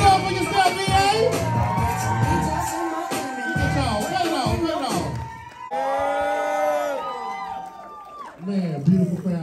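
Comedy club crowd at a New Year's Eve show, loud cheering, whoops and shouts from many voices rising and falling over several seconds, mixed with talk.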